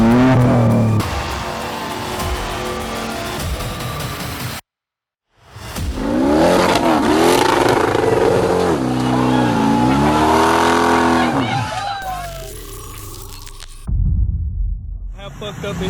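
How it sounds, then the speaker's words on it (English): Several modified diesel pickup trucks rev hard while rolling coal, a string of loud, close engine roars and rising throttle sweeps with some tire squeal, broken up by short cuts and silent gaps. "The growl, the smoke, the unstoppable force of diesel kings on the loose."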